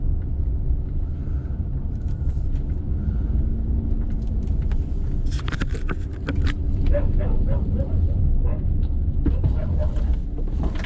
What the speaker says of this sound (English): Very excitable dog.